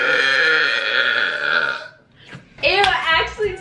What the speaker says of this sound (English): Ew, I don't want to smell your burp.